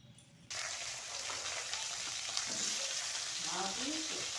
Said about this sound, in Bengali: এবার আলুটাকে একটু ভেজে নেব।